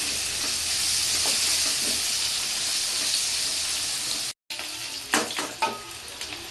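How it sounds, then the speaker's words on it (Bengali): Potatoes fry in oil in a pan for a Bengali-style jackfruit dish, giving a steady loud sizzle that cuts off briefly, then returns with sharper crackles and scraping stirs. "আলুটা আমি বেশ লাল লাল করে ভেজে নেব"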